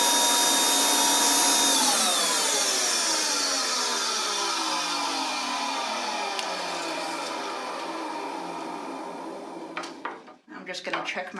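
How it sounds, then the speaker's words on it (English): A shop vac runs loud and steady in a woodworking shop, its motor whine then slowly winding down, with a few sharp clatters near the end. "Shop vac."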